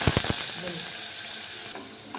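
Onion paste dropped into hot oil with mustard seeds and cumin for a fish curry, a few quick pops at first and then a steady watery sizzle that fades slightly.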